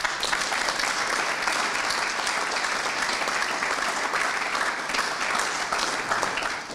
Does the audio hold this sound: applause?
yes